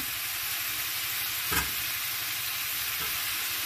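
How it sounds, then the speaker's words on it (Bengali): Vegetables and prawns with a little chili powder are stirred in a pan, a steady broadband frying sizzle running throughout with a single brief scrape of the spoon near the middle. "হালকা একটু লঙ্কার গুঁড়ো দিয়ে এটা ভালো করে মিক্স করবো"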